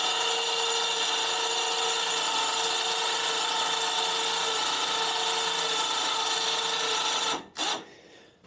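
A small homemade sawmill cuts steadily through a 22-inch-wide cedar log with a continuous loud whine that ends abruptly near the close. No speech.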